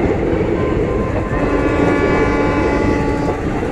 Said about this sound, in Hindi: कमाल की बारिश के बीच ये बेहतरीन रेल एक्शन